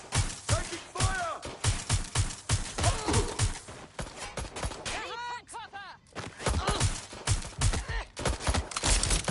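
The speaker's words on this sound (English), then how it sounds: "Taking fire!" Gunfire from the video game Watch Dogs: Legion comes as loud rapid bursts of shots and impacts throughout, mixed with game sounds and chirping tones, with a brief lull near the middle.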